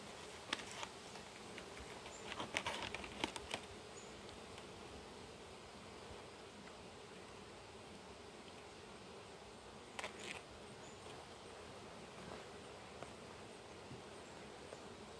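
Bees from a dying hive buzz softly in a faint, continuous hum, with a few brief clicks and taps scattered through, no voices.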